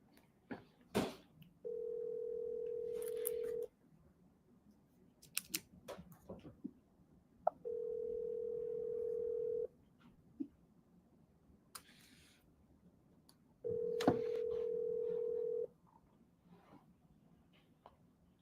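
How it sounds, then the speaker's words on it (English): Ringback tone of an outgoing phone call, three long steady tones spaced several seconds apart, with soft clicks and handling noises in the gaps between them and no talking. "Calling him back right now."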